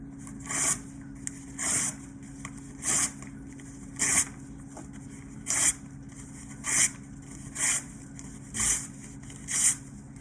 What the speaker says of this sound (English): Newspaper, you're just going to take, this is the fun part, and rip it into little strips.